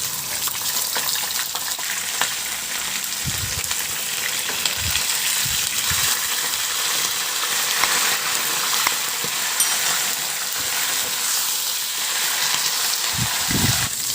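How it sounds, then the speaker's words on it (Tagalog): Dalagang bukid fish frying in hot cooking oil, a steady close sizzle running throughout with a few soft clatters of handling and no talk. "Magpainit na rin ako ng mantika at iprito ko na rin tong isda na"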